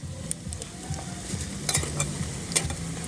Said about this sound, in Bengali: আমার পকোড়াগুলো ভাজা হয়ে গেছে এবার এটাকে উল্টে নেবো এক পাশ ভাজা হয়ে গেছে